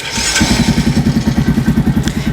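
A Rusi 100 motorcycle engine idles close by with a fast, even putter of regular thumps, steady and loud throughout.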